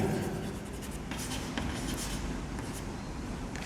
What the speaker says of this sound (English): let me write sine theta here